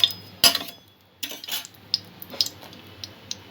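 A spoon scrapes and clinks against a pan, mixing ghee into bread pulao: a sharp knock near the start, then several lighter metallic taps and scrapes spread irregularly across the stretch, close and clear with no talking.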